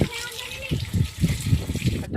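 Water gushes hard and steadily while a tractor is washed down outdoors in summer, the rushing spray running under near, continuous chatter from a child and others.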